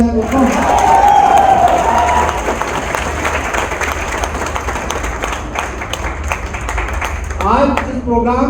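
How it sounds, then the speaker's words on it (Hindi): Loud applause and cheering from an audience at a company event honoring a winning team, strong clapping that thins into scattered claps, with a voice and shouts rising again near the end. "टीम विनिंग राइजर्स के लिए बहुत जोरदार तालियां हो जाए दोस्तों"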